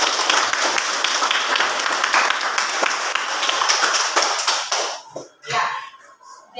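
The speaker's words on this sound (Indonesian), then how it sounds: "Kita berikan apresiasi atau tepuk tangan untuk kita semua" Applause from a classroom group of students, dense rapid clapping that fills the room for about five seconds, then breaks off into a few scattered claps and quiet.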